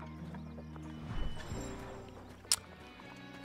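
Horse hooves clip-clop in The Oregon Trail computer game, a short run of hoofbeats with a brief neigh, set against low game music and a sharp click near the end.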